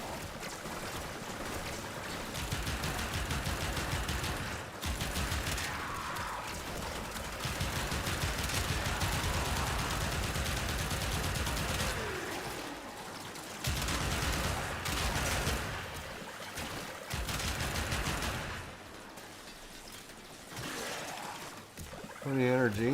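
Rapid gunfire from a weapon in the video game Warframe, bursts of shots mixed with game effects and a dense sound bed, while a voice talks over much of it.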